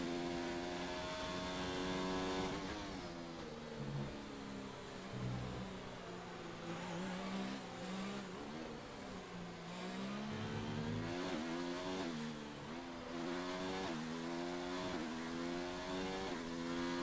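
A race car engine in a racing video game screams through an onboard lap of a French circuit, its pitch rising and falling through gear changes and corners, sustained and loud with no talking.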